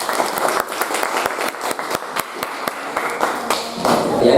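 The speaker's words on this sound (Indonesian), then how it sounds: "Tepuk tangan untuk kelompok" A classroom group in a teacher-training lesson claps for fellow students: a close, loud patter of many hands with distinct sharp individual claps, building slightly toward the end.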